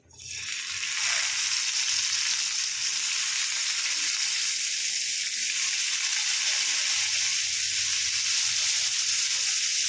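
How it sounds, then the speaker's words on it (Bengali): Turmeric-coated parshe fish slide one by one into hot oil in a nonstick kadai, and a loud, steady sizzle rises right away and holds close and continuous throughout. "এবারেতে মাছগুলো ছেড়ে দেবো এক এক করে"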